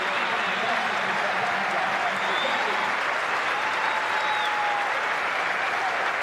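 Sydney cricket crowd applauding batsman Graeme Smith as he walks out, a dense, steady roar of clapping from a large stadium audience sustained throughout, with faint whistles riding over it.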